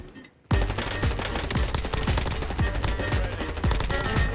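Ladra submachine gun firing in Warzone, a loud sustained burst of rapid automatic shots with a steady rhythm, starting after a brief quiet moment and continuing without pause.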